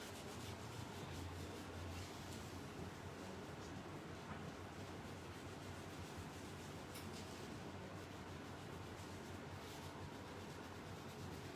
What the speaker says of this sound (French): On va gommer la peau.